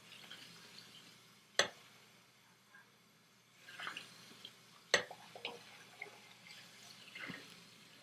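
Water rinsing out a container while making homemade Thieves laundry detergent: faint running and splashing water with two sharp clinks of the container, quiet and close, with no talking.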